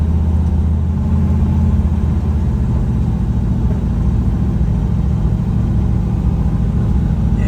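A car driving a lap around an abandoned race track gives a loud, steady engine drone with a deep low rumble that holds without a break throughout.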